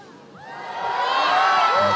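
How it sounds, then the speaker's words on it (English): Crowd at a European trampoline championship final cheering and whooping, swelling from quieter to a loud sustained roar over two seconds, with rhythmic shouting like a chanted name. "And the crowd chanting Stoy"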